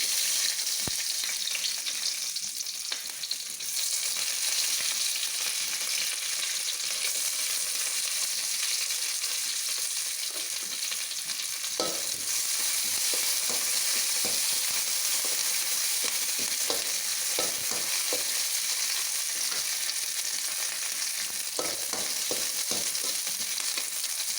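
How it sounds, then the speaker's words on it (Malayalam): Green chilli, ginger and curry leaves fry in hot oil with fenugreek for a rambutan pulissery, giving a steady loud sizzle with occasional stirring scrapes throughout. "ഇനി നമുക്ക് പച്ചമുളക്, ഇഞ്ചി, കറിവേപ്പിലൊക്കെ ഇടാം."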